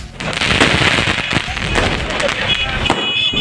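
Firecrackers set off by party leaders and workers at a BJP celebration outside a residence in Darbhanga, giving a dense, continuous stream of loud crackling bursts and sharp pops, with crowd voices mixed in throughout.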